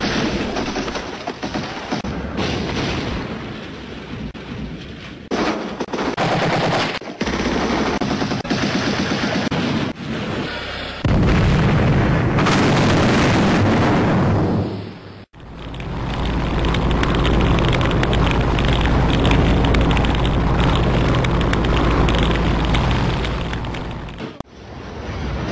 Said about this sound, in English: They also fired fiercely with 100mm gun at the three Vietnamese transport ships.